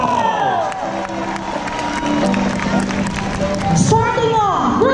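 Crowd applauding and cheering in a school gym as Grade 1 pupils enter, loud sustained clapping with shouts and children's voices, and an announcer talking over it.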